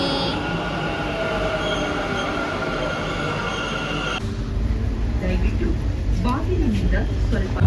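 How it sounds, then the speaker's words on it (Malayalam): A metro train rumbles along with wheels squealing on the rails. Partway through, people start talking close by over the continuing train noise. "ഞങ്ങൾ മെട്രോ ഒക്കെ ഇറങ്ങി."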